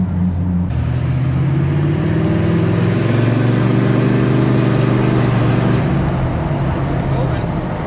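A stock LBZ Duramax diesel pickup fitted with a 5-inch exhaust routed to a bed stack gives a loud, close, steady droning rumble as it idles and rolls, and its pitch rises and falls gently over several seconds.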